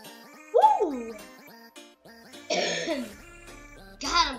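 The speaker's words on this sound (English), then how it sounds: "I'm coughing a lot" Several bursts of coughing and throat clearing from a gamer mid-session, close and loud, with pauses between fits and a game's music and effects running underneath.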